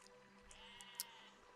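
A sheep in the Besiege video game gives a single short, faint bleat, heard alone and briefly.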